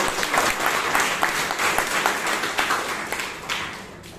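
Applause fills the room at a Bangalore Toastmasters meeting, a thick, even patter of many hands with a few sharper individual claps poking through, holding steady and then easing off near the end.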